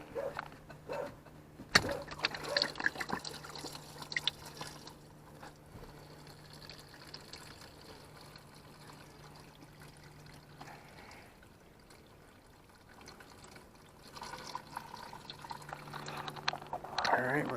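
Coolant drains from a Can-Am Outlander ATV radiator in a trickling, dripping stream, louder at first, fading to a faint dribble in the middle and picking up again near the end, with a person talking over parts of it.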